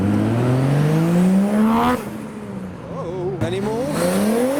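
Japanese cars leave a 2020 car meet, Skylines, Silvias and Supras among them, with a close engine revving high in rising gear pulls, then a lift-off and a fresh climb. A short spoken remark sits partway through.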